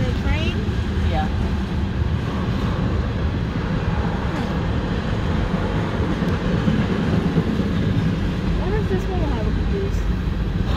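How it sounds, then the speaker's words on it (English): Loud continuous rumble and clatter of a fast CSX freight train rushing past nearby, steady throughout, with people talking over it. "this train is flying!"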